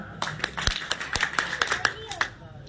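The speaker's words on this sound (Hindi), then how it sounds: "जोरदार तालियां" Audience clapping at a political program in Ramgarh, a sparse, uneven scattering of individual claps with a speaker's voice heard over them, fairly quiet overall.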